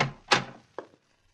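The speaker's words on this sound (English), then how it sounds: "I'm going to open the door." A door opening indoors in an old radio drama: a few close wooden thunks and a latch clack, then quiet, with no talk over it.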